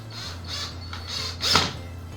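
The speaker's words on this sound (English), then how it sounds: "I'm screwing in the cam lock screws" Cam lock screws being turned into a wooden nightstand, a close, faint series of rhythmic ratcheting creaks and squeaks over a low steady hum.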